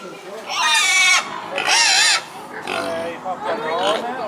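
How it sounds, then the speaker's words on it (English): Pigs at a city farm make several loud, drawn-out squealing grunts in bursts, close by, with some overlapping vocal sounds in between. "It's piggies, miss."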